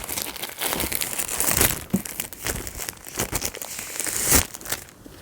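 Plastic wrap is pulled off gold-edged hardcover books of Grimm's Complete Fairy Tales, producing continuous close crinkling and crackling with irregular louder scrunches and tearing bursts.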